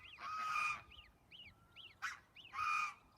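A turkey in a farmyard with chickens calls in loud, harsh bursts, two long blaring honks with short gobbling squawks and a sharp cry between them, close by and with no talk over it.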